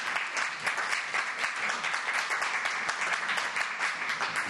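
An audience at a poetry evening applauds to welcome a poet, with dense, even clapping that runs steadily throughout and no voices over it.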